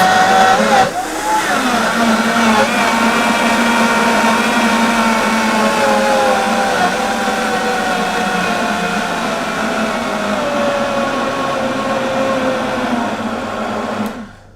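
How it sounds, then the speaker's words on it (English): A blender on low speed blending bananas whirs continuously at a steady pitch, its motor loud and close, running for over ten seconds before cutting off abruptly at the end. "Make sure your blender's on low, flick it on."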